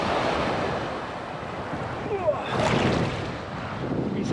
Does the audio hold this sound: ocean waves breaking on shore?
yes